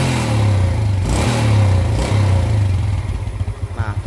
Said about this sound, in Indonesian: Tapi ini setelah kita perbaiki, digas lagi langsung ringan apabila digas.